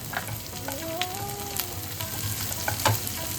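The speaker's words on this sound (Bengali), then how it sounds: "পেঁয়াজটাকে এবার আমরা ভেজে নেব।" Onions frying in a pan: a close, steady sizzle with scattered spoon scrapes, plus a faint rising tonal whine in the background partway through.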